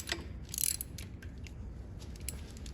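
Ratchet with a wobble socket and extension working a water pump bolt near the pulley of a Ford 961 Powermaster propane tractor, giving a few sharp metallic clicks and clanks at close range with no voices.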